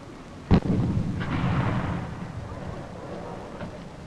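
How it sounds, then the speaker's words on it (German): A single sharp blast from an Ofenrohr anti-tank rocket launcher during military practice firing, followed by a rushing, fading roar, heard fairly close and alone. "Gewöhnungsschießen mit dem Ofenrohr."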